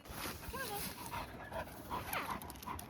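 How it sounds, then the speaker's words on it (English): A small dog whimpers and pants faintly in the background of an outdoor walk, short whiny tones rising over steady wind and ambient noise, with no talking heard. "That little dog, that little Georgie, definitely doesn't want to come on the walk with me"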